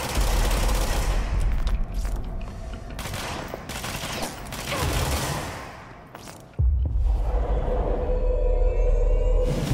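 Sustained gunfire in the video game Control, a dense, loud barrage of overlapping shots and rumbling impacts that thins out briefly before surging back even harder near the end, with no talking.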